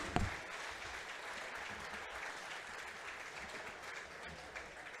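Crowd applause in a gym at a high school basketball regional final, with a steady wash of distant clapping and cheering held at an even, faint level.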